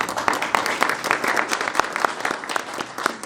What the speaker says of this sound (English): you saw he applauded